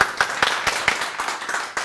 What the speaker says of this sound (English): a big round of applause for our front of house students